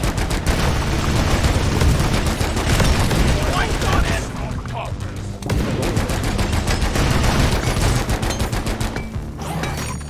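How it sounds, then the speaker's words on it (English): Rapid video game gunfire shooting at exploding flowers, dense bursts of shots and booms running almost continuously at close range, with voices talking over the barrage. "Shoot the flowers, they're gonna explode on them"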